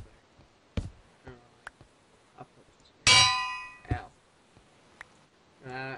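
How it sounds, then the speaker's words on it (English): Metal anvil placed down in Minecraft, a sharp ringing clang midway through, preceded and followed by lighter clicks, taps and dings of game activity. "Okay, you got our anvil. You smack that down somewhere."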